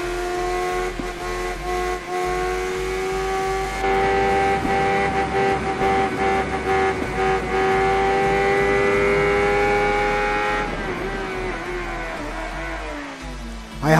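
A carbureted Honda Hornet 600 motorcycle engine screams at high revs, holding a loud, steady tone for several seconds before easing off with a falling pitch, close and continuous.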